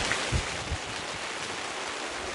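Rain pouring steadily during a club rugby reserves match, a dense continuous hiss with a couple of dull thumps near the start and no voices.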